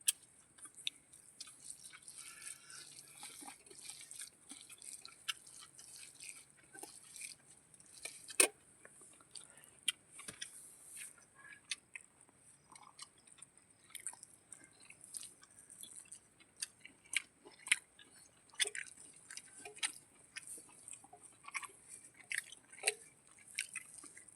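Wet, soft chewing and mouth clicks repeat close up and quietly for a long stretch as someone tastes a home-cooked village dish during heavy rain, with faint dripping and no talking.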